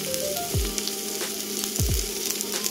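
Onion paste and turmeric frying in a pan for a fish-head mung dal, a steady close sizzle broken by a few deep scraping thuds of the spoon as it is stirred, with no voices.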